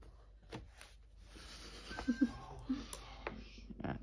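A cat meows a few times in short, close cries amid quiet room noise, with brief movement sounds and no clear talk.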